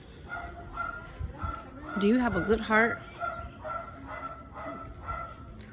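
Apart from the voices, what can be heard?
dog barking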